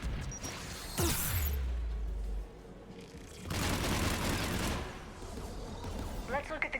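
Heavy automatic turret fire in Mass Effect 3, loud bursts of rapid shots with crashing impacts, pausing between volleys, while a voice speaks over the gunfire.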